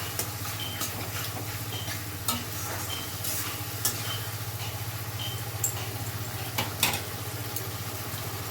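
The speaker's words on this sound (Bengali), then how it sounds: "একটু নাড়াচাড়া করে নিচ্ছি।" Peas curry made with winter green peas is stirred in a frying pan, giving soft, quiet sizzling and scattered scraping strokes over a low steady hum.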